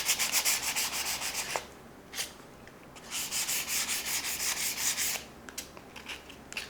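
Sandpaper rubs back and forth over a cut wooden craft piece, firm even strokes in two rhythmic bursts separated by a short pause, close and fairly quiet with no talking.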